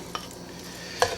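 Home fries tipped from a pan into a bowl, heard as a soft scrape followed by a brighter utensil clink against dishware, over a faint steady sizzle; close and brief, with no voices.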